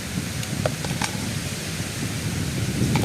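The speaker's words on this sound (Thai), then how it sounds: "ลมคักอะไรทุกคน" Steady strong wind blows across an outdoor kitchen while Lao-style beef and spinach curry with watermelon and salt is being prepared, a continuous low rushing roar that swells slightly toward the end, with a few faint clicks on top.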